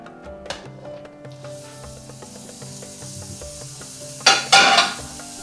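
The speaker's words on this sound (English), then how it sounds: "Our pan is pretty much hot enough. So we're going to add our sausage." Sausage sizzling in a hot pan for breakfast pockets, a steady low crackle with scattered pops and clinks, swelling into a louder burst of hissing sizzle near the end.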